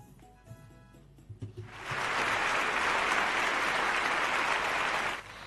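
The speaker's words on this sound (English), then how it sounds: "I think I need to give a round of applause to all of these children because you all are amazing." Studio audience on a children's radio morning show bursts into applause after a brief quieter lead-in, the clapping swelling to a steady loud wash that holds for several seconds before cutting off.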